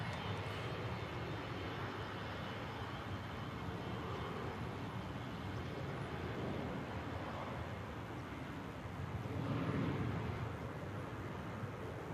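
Helvetic airliner taxiing out at Manchester Airport for Zurich, a faint, steady distant engine rumble with a slight swell near the end, heard alone.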